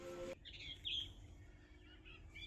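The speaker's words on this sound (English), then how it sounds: "Birds are so easy to hear, so hard to see." Faint, high chirps and short calls from birds at Sinclair Wetland, heard in a quiet outdoor setting after a brief louder rustle at the start.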